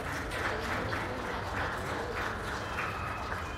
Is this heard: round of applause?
yes